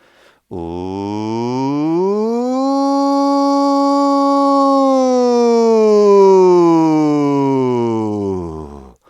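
A single voice imitates a civil defense siren, sliding up into a long sustained wail and gliding back down, loud and alone.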